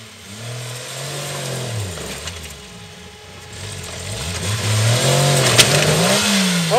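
A vehicle engine revs up as it takes off on an off-road ledge trail at Shiloh Ridge in Alto, Texas, rising and falling in pitch over several surges, loud and close.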